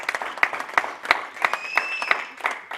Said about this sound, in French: Acclamons encore pour la parole de Dieu.